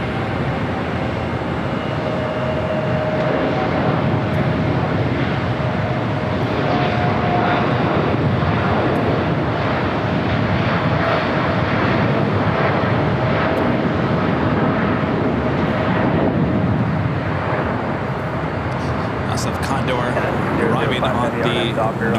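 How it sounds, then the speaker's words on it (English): KLM Boeing 787-9 Dreamliner jet, flight 604 bound for Amsterdam at Los Angeles airport, rumbling steadily and loud throughout with a faint high engine whine, while voices and radio chatter run over the roar. "the KLM Dreamliner 787-9 Dreamliner, flight 604"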